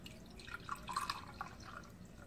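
Purified drinking water is poured by the cup into boxed cake mix batter for a flan cake, giving soft, quiet dripping and splashing trickles that fade in and out with no talking.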